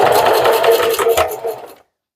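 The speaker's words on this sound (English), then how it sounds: "Now I will backstitch." A domestic sewing machine backstitches at the end of a seam, a close, rapid mechanical chatter of needle strokes lasting under two seconds before stopping abruptly into silence.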